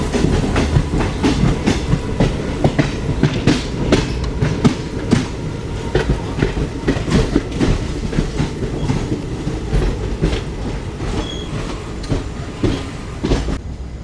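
The 17420 Vasco-da-Gama (Goa) to Tirupati weekly express train runs along the line, heard from on board as a loud, steady rumble with continuous rhythmic clickety-clack of wheels over rail joints throughout.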